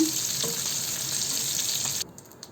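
Fish frying lightly in hot oil for a Bengali fish and cauliflower curry gives a steady, close sizzle that runs evenly and then drops away in the final half second.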